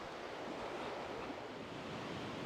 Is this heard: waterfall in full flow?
yes